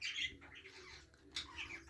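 A young sky-blue budgie squawks in a breeding room, giving a couple of short, harsh, close calls with brief pauses between them.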